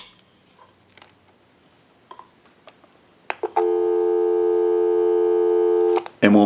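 A few scattered clicks and handset taps come from a Spacesaver telephone, then a steady, clear dial tone hums close and alone for a few seconds before a sharp click cuts in.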